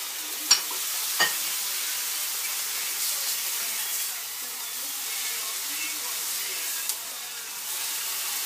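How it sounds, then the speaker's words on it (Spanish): Ham cooking in a frying pan gives a steady, moderate sizzle that runs throughout, with a couple of sharp pops near the start and a brief clink later on. "cociné el jamón en el sartén por un poco de tiempo"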